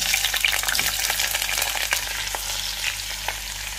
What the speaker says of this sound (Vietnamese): Rồi, hỗn hợp dầu này nó nóng rồi, bây giờ cho hành vào.